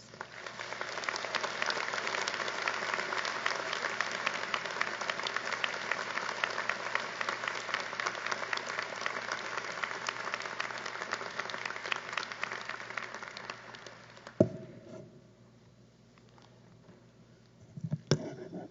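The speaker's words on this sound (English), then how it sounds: "One more round of applause for Kim Keenan." A law school commencement audience claps in a long, steady round of applause that fills a large space, then stops abruptly, leaving a quiet room with a couple of brief knocks.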